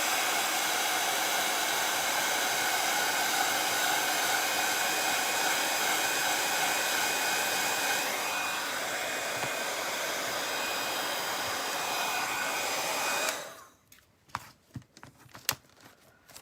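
Heat tool warming Wood-U-Bend craft scraps, blowing with a steady loud whoosh for about thirteen seconds before switching off, followed by light clicks and handling noises.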